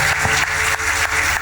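Congregation applauding inside a church, a dense, continuous wash of clapping from many hands with small swells, filling the room without voices.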